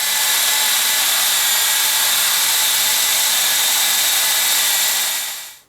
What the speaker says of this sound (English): So I'll go ahead and drill this one through